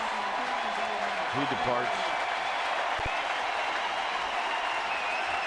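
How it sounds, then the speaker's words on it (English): A baseball crowd at a Houston versus San Francisco game applauds pitcher Bumgarner as he leaves, a broad distant wash of clapping and cheering under a commentator's voice. "So Bumgarner's going to get a great round of applause"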